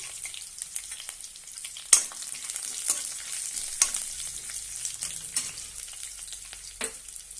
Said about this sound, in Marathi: एक कांदा बारीक असा कट करून घेतलेला आहे तो घालूया आणि छानपैकी परतून घेऊया।